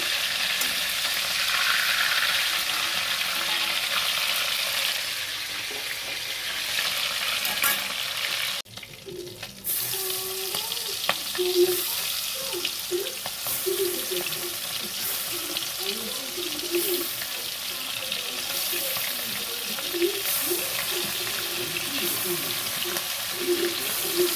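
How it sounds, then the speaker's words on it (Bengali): Oil sizzles steadily in a pan as prawns fry throughout, with occasional clinks and stirring as they are turned, and faint talk in the background. "দেখো আমি আরেকবার উল্টে দিচ্ছি মাছগুলো"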